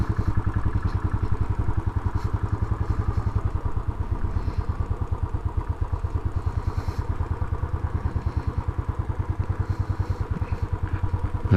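A Royal Enfield Classic 500 single-cylinder motorcycle from 2018 idles close by while being parked, its steady low thumping pulse continuing evenly with faint clatter and no voices.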